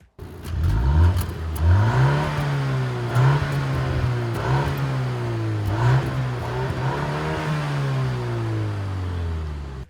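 A BMW M235 engine revving, heard from outside the car: a loud, steady engine drone with rising and falling pitch as the revs climb and ease, with no talk over it.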